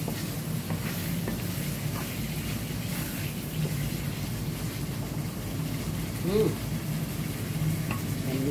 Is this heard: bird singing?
no